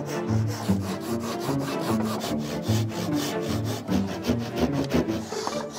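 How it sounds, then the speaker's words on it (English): A tenon saw cuts through wood at a woodworking bench, giving a steady rasping back-and-forth of quick repeated strokes, close and fairly loud, with no speech. "The tenon saw skips a hell of a lot."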